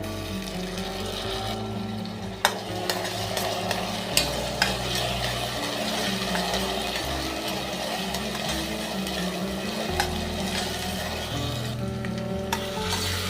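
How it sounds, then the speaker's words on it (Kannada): Chopped tomatoes frying with onions in a hot pan, a steady crackling sizzle with occasional stirring scrapes and clinks throughout, close and fairly loud, no talking. "ಟೊಮೊಟೊನು ಸೇರಿಸ್ತಾ ಇದ್ದೀನಿ."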